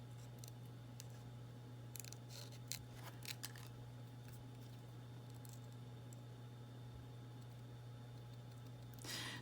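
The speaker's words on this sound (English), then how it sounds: "see my non-skill at fussy cutting coming along." Scissors fussy cutting paper for a hot air balloon journal, producing faint, scattered snips over a steady low hum, close and quiet with no speech.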